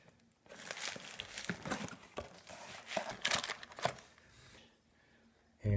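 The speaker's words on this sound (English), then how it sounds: "I'm gonna take it out of the packaging here." Redline Flight Cranks pulled out of their packaging, with close, fairly quiet crinkling and rustling in irregular bursts that fade out toward the end, with no talking.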